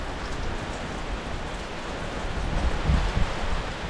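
Steady rain hisses down in cold, foggy weather as a dense wash of noise, with a few louder patters near the end.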